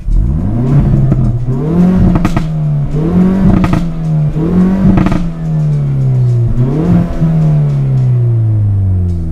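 Hyundai i30N Performance hot hatch engine revving hard through several gear changes, loud and close, with repeated rising pulls broken by short shift pops and crackles.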